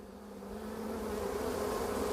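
A freshly captured honey bee swarm being boxed up produces a steady, dense drone of many buzzing bees, close and gradually swelling louder, with no talk.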